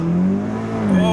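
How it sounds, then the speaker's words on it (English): Engine of a 400HP all-wheel-drive Audi S3 during a hard launch, a loud steady droning note heard from inside the car, rising slightly in pitch toward the end. "Just the all-wheel drive launches are just crazy"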